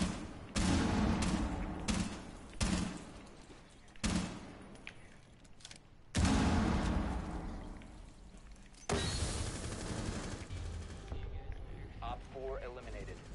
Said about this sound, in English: Shots! Shots! Shots!